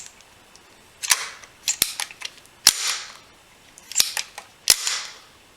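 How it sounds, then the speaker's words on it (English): A Spyder paintball gun with a repaired electronic trigger fires a series of sharp, close snaps, singly and in quick pairs, with short pauses between bursts. "turn on the gun, pull back the trigger"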